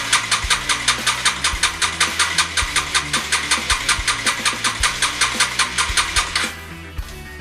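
A Honda CBR motorcycle engine cranks with a fast, even, repetitive whirring and chugging for about six seconds, then cuts off abruptly, leaving a brief thump and quiet.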